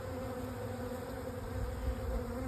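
A honey bee swarm settling into a new home gives off a continuous, even buzzing drone. The hum is close and steady, with no voices over it.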